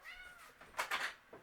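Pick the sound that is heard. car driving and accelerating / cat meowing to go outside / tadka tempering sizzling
cat meowing to go outside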